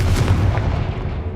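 Confringo fire spell explosion in the video game Hogwarts Legacy, a single loud, deep boom that rumbles and fades over about a second.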